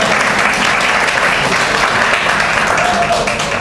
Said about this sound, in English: give them a little golf clap